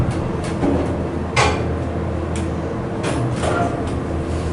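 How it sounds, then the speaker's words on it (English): Aging Otis Series 1 elevator motor in an Orlando hotel lifting the car one floor, a steady low hum with a few knocks and bumps, heard alone at close range. "Listen to the motor going up 1 floor."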